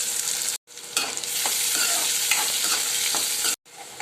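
Onions and whole garlic cloves frying with spices in hot oil for a yam curry, a loud, close, continuous sizzle with stirring scrapes, cut by two brief silent gaps, no voices.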